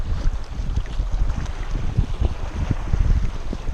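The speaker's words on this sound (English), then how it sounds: "Wind blowing." Wind buffets a boat during flounder fishing on the Texas coast, a rough, gusty rumble with uneven bumps, close to the microphone and steady over a few seconds.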